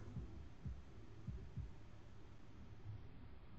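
Heartbeat sound effect from the visual novel game Katawa Shoujo: four low, thumping beats in a steady rhythm over a faint hum, followed by a softer trailing thud, with no talk.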